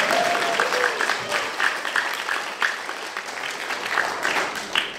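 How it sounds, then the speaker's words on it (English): Audience applause at a LEGO fan event keynote, a steady wash of clapping from a crowd with scattered brighter claps and faint voices mixed in, fairly continuous for several seconds. "you can clap for that, it's okay"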